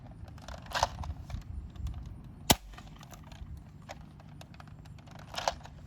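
A few sharp shots from an Adventure Force Thundershot toy blaster, led by one loud crisp snap near the middle, with smaller clicks and rustles around it against a low, steady background.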